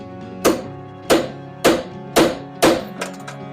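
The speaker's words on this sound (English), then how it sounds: "Put the punch in the hole, whack it." A small hammer striking a punch to drive a rivet out of a Triumph TR8 door, five sharp metallic whacks at a steady, unhurried rhythm, close and loud with ringing decay.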